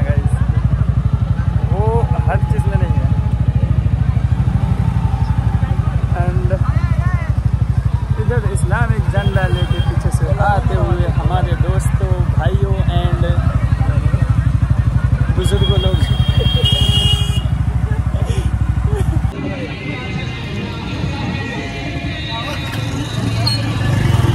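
Motorcycles lead an Eid Milad procession through Bhawanipur, with a steady low engine rumble close by under constant crowd chatter and voices, and the engine drone drops away near the end.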